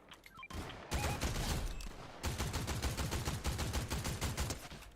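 Rapid automatic gunfire in a first-person shooter video game, loud sustained bursts of shots after a brief pause, continuing almost without break to the end.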